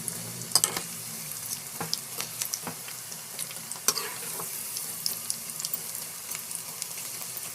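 Pakoda batter fries in hot oil with a soft, steady sizzle, peppered with small crackles and pops and an occasional faint clink, heard alone without talk.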